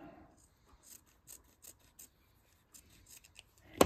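Scissors trim fabric quilt binding on a fidget quilt, making a series of quiet, soft snips spaced through the moment, close by, with a louder handling noise at the very end.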